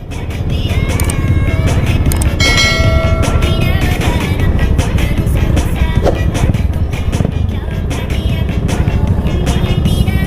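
Steady, dense street traffic on Buendia Avenue in Makati, with a constant engine rumble from passing cars and motorcycles filling the whole stretch at close range and no talk over it.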